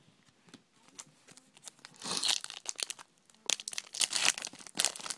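Crinkly plastic wrapper of a Vampire Diaries trading card pack being torn open up close, with bursts of sharp crackling and tearing that grow louder midway, no talking.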